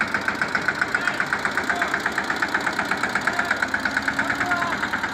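A tractor engine runs at a steady idle-like pace, its rapid regular knocking beat close and continuous, with faint voices in the background.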